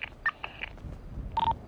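Short electronic keypad tones from a video game set in a decorated mansion, a few brief beeps at moderate level over soft background sound, with a longer tone near the end.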